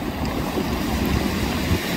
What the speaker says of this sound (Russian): Барашки волн набегают на сушу. Такие белые, большие волны.